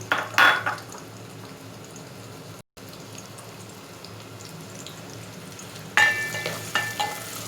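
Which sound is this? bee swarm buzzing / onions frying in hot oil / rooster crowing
onions frying in hot oil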